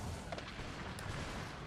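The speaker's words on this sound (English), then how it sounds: "Rest of the cannon, keep firing canister." Cannons firing canister shot in Empire Total War: rumbling, close artillery blasts overlapping one another in a brief burst of battlefield noise.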